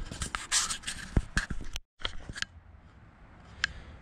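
A cutting tool snips along a taped line on the body of a lifted Jeep Grand Cherokee, giving irregular, close cutting and scraping sounds with sharp clicks, a brief silence midway, then fainter, sparser cuts.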